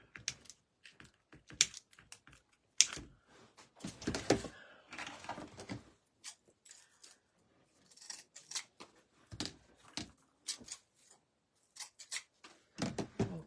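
Scissors snip through sunflower wreath materials in a series of crisp, irregular cuts with short pauses between, quiet and close with no talking.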